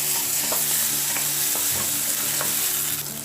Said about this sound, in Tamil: இது கூட வந்து நம்ம பூண்டு சேர்த்துக்கோங்க. சேர்த்து வதக்கி எடுத்துக்கலாம்.